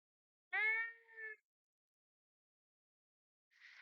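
A cat gives a single strained, drawn-out meow that sounds as if it is being tortured. It is followed by silence and then a faint hiss-like noise at the end.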